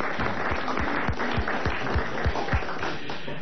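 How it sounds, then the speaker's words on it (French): Studio audience applause on a French comedy show, a dense steady wash of clapping with a few sharper claps standing out, fairly loud throughout. "applaudissements mérités pour madame Douchy"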